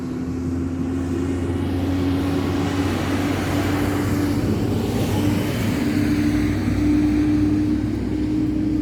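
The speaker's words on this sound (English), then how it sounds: "I gotta pause while those trucks go by." Trucks driving by on a road, a continuous loud low engine rumble and tire roar with a steady droning hum, swelling slightly as they pass close.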